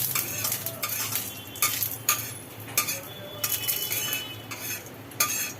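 Bay leaf and fenugreek seeds frying in oil in a pan, a steady sizzle punctuated by repeated metal spatula scrapes and clinks against the pan, close by, with no speech.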